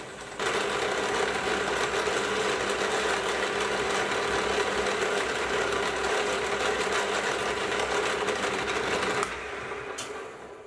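A metal lathe turning rings along a steel part for a fly press ram block, running as a steady, even mechanical whir with a fine cutting hiss, close and constant until it winds down near the end.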